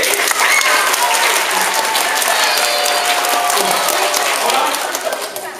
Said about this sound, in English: On the count of 3, I need your applause